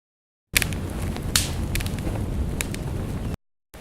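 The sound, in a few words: fire sound effect from bubble wrap crackles and branch snaps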